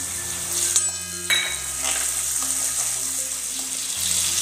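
Onion, turmeric and peas fry in a pan for kanda pohe, giving a steady close sizzle with brief stirring scrapes, heard without talk.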